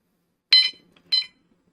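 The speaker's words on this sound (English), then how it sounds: "it'll beep twice and the backlighting goes away" Plug-in carbon monoxide detector, model 302 Pro, giving two short, sharp electronic beeps about half a second apart, close and clear against silence.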